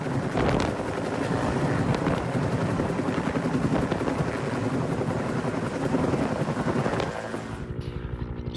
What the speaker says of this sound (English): so the helicopter can take off and go pick up